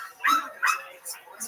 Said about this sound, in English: Perfect timing for the dog sound effects